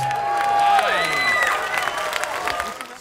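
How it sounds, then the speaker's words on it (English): At an outdoor community concert in Garden Grove, a crowd applauds and cheers, with whistles and shouts rising over clapping and voices calling out amid the noise. "Let's have a big round of applause."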